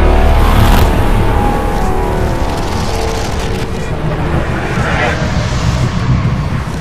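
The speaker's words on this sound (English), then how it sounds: "Time to listen to what it sounds like. Ladies and gentlemen, the 2020 Honda Africa Twin." Engine of a 2020 Honda Africa Twin adventure motorcycle running steadily and loud up close, a continuous low rumble held for several seconds with mild rises in revs and a strong low end throughout.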